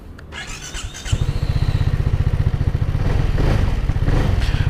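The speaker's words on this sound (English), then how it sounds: "the engine noise is quite loud and has a very throaty exhaust note" A BMW C 400 GT motor scooter engine starts after a brief click and settles into a loud, throaty, rapidly pulsing idle close by.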